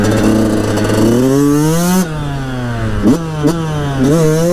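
A Yamaha YZ 125 two-stroke motorcycle engine revs loud and close, its buzzing pitch climbing, dropping and rising again through quick throttle blips.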